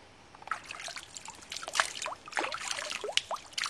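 A shallow, low-flowing stream in Bankura forest, West Bengal, trickles and gurgles over rocks in a very quiet spot, producing a soft, irregular patter of small splashes and bubbling close by, with no voices.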